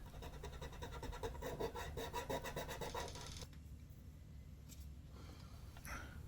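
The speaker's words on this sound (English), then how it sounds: "And sand it to make it look beautiful and be smooth." Sandpaper rubbing steadily over violin wood in a workshop, a rhythmic close rasping for about three seconds, then quieter scratching strokes.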